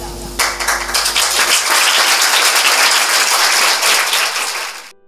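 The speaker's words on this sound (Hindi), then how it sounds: "जोरदार ताली।" An audience at a Baptist church Sunday school Christmas drama applauding loudly, a thick continuous burst of clapping that rises fast, holds steady, then cuts off abruptly near the end.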